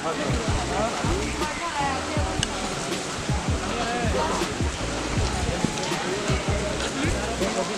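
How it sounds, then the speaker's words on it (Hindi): Steady rushing water from a waterfall near a small hilltop camp and market on a Bihar peak, a continuous broadband roar with scattered lower thumps throughout. "ये झरना,"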